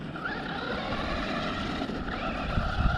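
A Traxxas Rustler 4x4 VXL RC car's motor whines steadily and loudly up close, with rough rumbling from the wheels rolling over the ground.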